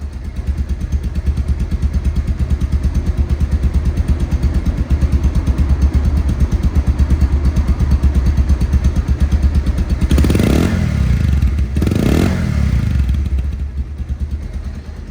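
A Bajaj Pulsar ABS motorcycle, two months old with about 1900 km, runs steadily and loudly up close, its engine rumbling evenly before two brief revs push the pitch up near the end.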